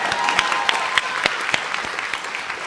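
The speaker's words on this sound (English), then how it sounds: "Round of applause, yeah." An audience at a medical graduation and white coat ceremony applauds, close and fairly loud clapping with a few sharp individual claps standing out over the crowd.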